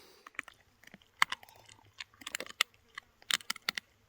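Sharp, irregular crunching and cracking bursts, close and dry, as a dog chews hard bones, with brief pauses between clusters of bites.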